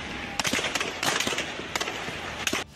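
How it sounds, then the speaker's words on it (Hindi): Rapid bursts of sharp cracks and bangs in quick clusters, loud and close, like gunfire and explosions rattling through a street during a clash in Lahore, with tear gas shells fired. "धमाकों की आवाज से पूरा इलाका गूंज उठा"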